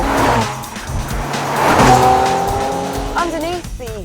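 A Chevrolet Camaro with a 3.6-litre V6 driving hard, engine roaring and tires squealing through a skid, loud and close, with someone talking over it.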